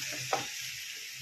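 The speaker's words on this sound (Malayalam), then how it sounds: "ഇതിലേക്ക് നമ്മൾ നേരത്തെ വഴറ്റി വെച്ച കത്തിരിക്കയും ഉരുളക്കിഴങ്ങും ഇട്ട് കൊടുക്കാം. ഇത് നന്നായിട്ട് ഒന്ന് ഇളക്കി കൊടുക്കും." Pre-fried eggplant and potato for a spicy curry stirred in a hot pan, a steady close sizzle with a single quick scrape of the spoon, no voices.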